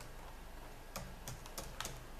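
Typing a command on a computer keyboard, a quiet run of about six separate key clicks spread over the second half, with faint background hum.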